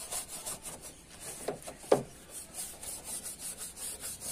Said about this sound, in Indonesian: Ini habis ini saya coba pakai sikat gigi.